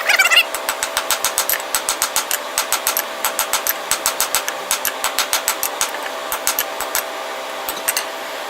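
Heated railroad spike hammered on an anvil while forging a knife, a rapid series of sharp metallic blows in quick bursts, each ringing briefly, close and loud over a faint steady hum.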